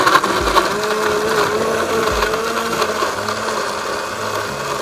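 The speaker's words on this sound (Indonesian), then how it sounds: "Kita blender dulu." Kitchen blender whirring as it purees turmeric and ginger with a little water, a steady loud grinding motor drone with no voices.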